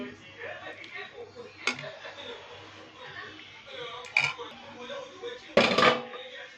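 Hot ghugni is spooned onto plates, with scattered clinks and scrapes of a spoon against dishes, including a few sharper knocks, while a person talks throughout.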